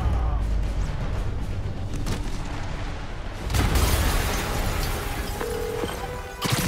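Explosion in the Marvel's Spider-Man video game: dense, loud rumbling blast noise throughout, with a sharper burst near the middle and sustained debris-like crackle.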